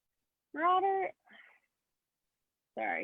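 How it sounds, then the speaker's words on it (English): A cat meows close by, with one drawn-out meow, a brief softer chirp, and then a second meow after a pause in an otherwise quiet room. "cat."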